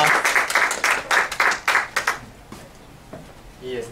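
Audience applause after a student's book presentation at a Japanese university book-review competition, dense clapping for about two seconds that thins out into scattered claps and quiet, with a brief voice at the end.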